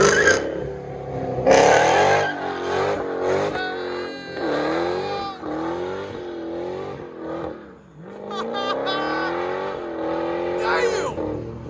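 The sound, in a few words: Dodge Challenger SRT Hellcat exhaust revving, Black Widow Angry Housewife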